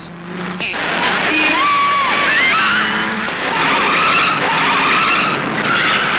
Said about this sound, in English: there were some spectacular crashes at Bathurst, including this horrifying flip at Skyline